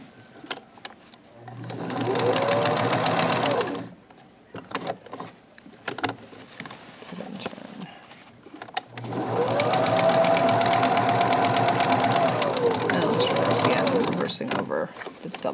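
Sewing machine stitching the waist hem of pajama pants, two bursts of fast, whirring needle motor, the first about two seconds and the second longer, with quieter handling and a voice talking between runs.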